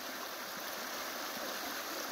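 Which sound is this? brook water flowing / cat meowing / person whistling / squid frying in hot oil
brook water flowing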